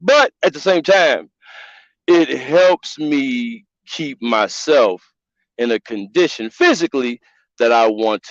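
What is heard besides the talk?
No everyday noises stand out.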